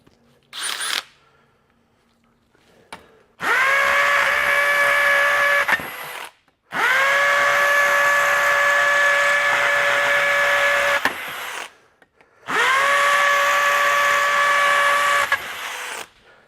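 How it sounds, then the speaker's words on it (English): A hammer drill with a 3/8 masonry bit, in hammer mode, bores into cinder block in three long bursts, each several seconds, with a loud steady whine and rattling impact, close by, separated by short pauses. "we'll go ahead and grab our 3/8 masonry bit, and we're going to turn it to hammer mode"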